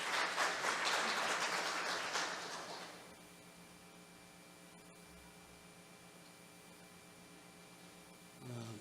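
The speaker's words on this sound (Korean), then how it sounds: "큰 박수 부탁드리겠습니다." Applause from an academic real estate conference audience fills the opening seconds, fairly faint, then cuts off into a quiet room hum.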